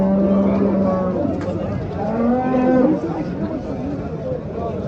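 Cattle moo at a busy livestock market, two drawn-out low calls rising over a background of crowd chatter and voices.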